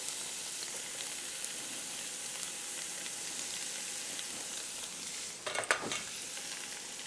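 Steady, close sizzle of a tablespoon of garlic sautéing in a pan for a cheesy tortellini bake sauce, with a brief clatter of utensil against pan near the end.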